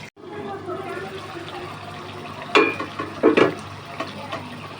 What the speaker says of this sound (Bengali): ভাজা ভাজা করে নিব কোফতাটা একবারে